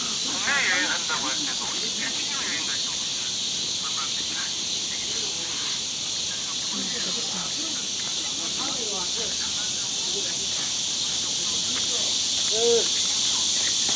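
Cicadas drone steadily on a wooded hillside, a dense high buzzing band running throughout under scattered nearby voices and rustling activity.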